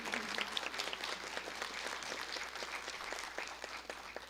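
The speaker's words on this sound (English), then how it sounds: "I feel like we need to give her a big round of applause for sure." Applause from a scholarship challenge audience, a steady run of individual claps of moderate loudness with little talk, holding evenly throughout.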